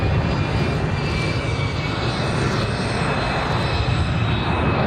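A Boeing C-17A Globemaster III transport jet of the US Air Force flies a display at Volkel, its engines giving a loud, steady, broad roar that holds evenly throughout with no voices.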